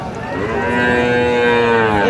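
A Sahiwal bull calf moos loudly and close by, one long drawn-out low call that rises slightly and holds steady.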